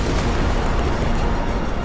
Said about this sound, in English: an Austrian ammunition wagon is hit and detonates in a tremendous explosion